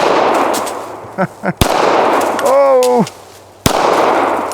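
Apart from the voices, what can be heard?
gunshots fired at a watermelon target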